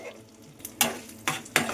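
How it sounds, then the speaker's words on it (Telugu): Chilli powder stirred into a frying nalleru chutney mixture in a pan: three brisk scraping strokes of a spoon over a low sizzle, close and fairly quiet. "అది వేసుకొని మంచిగా కలుపుకోవాలి."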